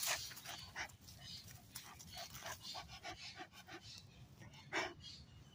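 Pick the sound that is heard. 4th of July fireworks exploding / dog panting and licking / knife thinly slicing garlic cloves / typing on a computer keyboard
dog panting and licking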